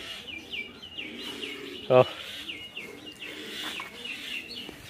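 A baby pigeon calling inside a pigeon farm, a brief sharp chirping cry in the middle over soft background cooing and chirps from other birds, with a person talking faintly nearby.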